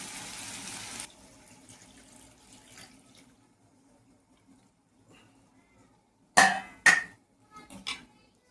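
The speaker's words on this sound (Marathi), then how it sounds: "यामध्ये आपण आता पाणी ॲड करूया" Water is poured into a pan of ghee chicken roast masala. After a mostly quiet stretch, a few short, close splashing pours arrive in quick bursts near the end.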